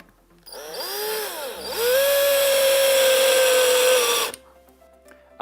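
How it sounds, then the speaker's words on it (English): A power driver drives a screw into a UPVC window sill with a close, loud whirring whine that dips as it bites, then rises to a steady pitch for a few seconds before stopping abruptly. "drive your screw in"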